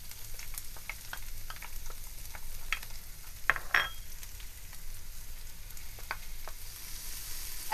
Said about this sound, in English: Now we're going to add the onions and the peppers at the same time.